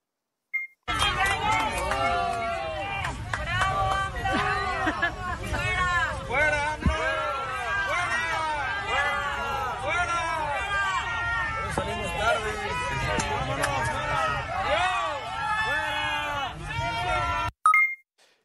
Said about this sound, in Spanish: Y este fue el abucheo también que le hicieron en el avión.